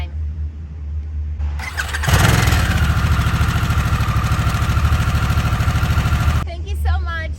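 Harley-Davidson Sportster S motorcycle cranking and firing up, then settling into a loud, rumbling idle that runs several seconds before cutting off, heard up close with no talk over it.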